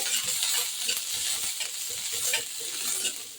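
Green chillies roast in hot oil in a pan, giving a loud, dense, crackling sizzle that carries on steadily at close range with no talk.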